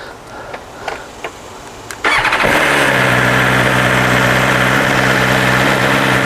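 A BMW S 1000 R motorcycle fitted with an Akrapovic Evolution exhaust cold starts after a few faint clicks, then settles into a loud, steady, raspy idle close by that holds for several seconds.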